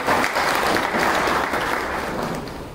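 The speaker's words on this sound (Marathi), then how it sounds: "जोरदार टाळ्या वाजवायच्या" A crowd claps steadily at a closing ceremony, a dense and even wash of applause that fades slightly near the end.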